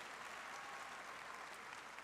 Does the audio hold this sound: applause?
yes